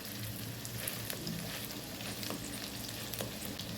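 Wet prawn (karandi) vadas fry in a pan over medium heat, giving a steady, close sizzle with crackling pops throughout. No one speaks.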